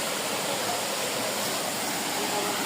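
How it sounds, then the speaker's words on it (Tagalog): Waterfall at a concrete-lined spot, a steady broadband rush of falling water that holds even and loud throughout with no break. "Nasa waterfall."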